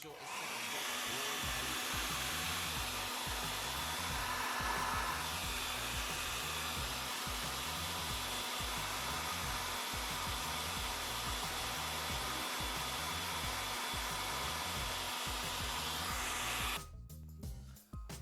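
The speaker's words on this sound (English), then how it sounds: "after a lot of wiggling and using the heat gun, I was able to remove the battery" A heat gun blows a steady, loud whirring drone while heating a Huawei Mate 20 Lite phone to loosen its battery. The drone runs unbroken until it cuts off abruptly near the end.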